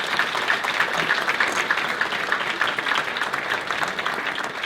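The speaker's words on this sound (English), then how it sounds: "I think we should do applause for that." A university awards-ceremony audience claps steadily for nearly five seconds, a dense, even wash of applause with no voices on top.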